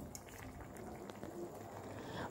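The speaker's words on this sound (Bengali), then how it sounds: "মাছগুলো দিয়ে খানিকক্ষণ ভালো করে গ্রেভিটাকে ফুটিয়ে নেব" Fish pieces simmer in a bubbling mustard gravy, a steady soft boil with faint popping throughout, close and low in level, with no voices.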